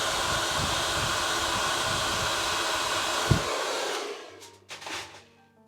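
A hair dryer blasts short hairs during a balayage highlighting session, a loud steady rushing airflow for about four seconds before switching off, followed by faint handling sounds.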